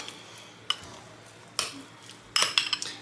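A utensil clinks against a bowl while mixing, with a few sharp metallic taps spaced apart and a quick cluster of scraping clatters near the end, close and moderately loud with no talking.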